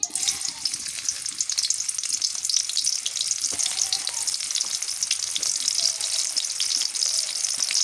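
Onions frying in a pan for a winter vegetable dish, a bright, continuous hiss of sizzling oil that stays loud and even throughout, with no one speaking.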